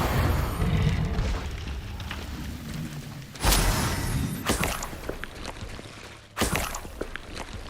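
A Confringo blasting spell explodes in Hogwarts Legacy, with heavy booming bursts, a rumbling wash at the start and two sharp blasts later on, loud and close with a roaring tail after each hit.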